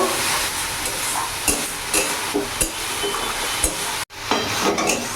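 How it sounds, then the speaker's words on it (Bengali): Spice paste sautés in oil in a pan over a medium gas flame for a rohu fish and poppy-seed dish, giving a constant close sizzle broken by scraping spatula strokes and one brief clack. "গ্যাসের ফ্লেমটা আমি মিডিয়াম রাখবো। ভালো করে আমি কষিয়ে নেব।"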